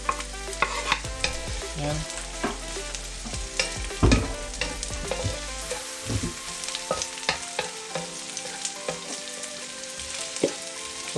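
Garlic sautéing in hot oil in a pan for adobo, a continuous close sizzle with repeated clinks and scrapes of a utensil stirring, while a voice briefly says a single word.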